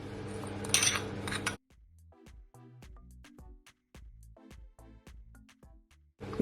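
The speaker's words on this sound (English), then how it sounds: "So I'm gonna mix my seasoning and make sure that it is all combined." Seasoning being mixed into minced beef for homemade cheeseburgers, heard as a run of close, soft squelching and tapping strokes in a steady rhythm after a brief louder rustle at the start, with no talking.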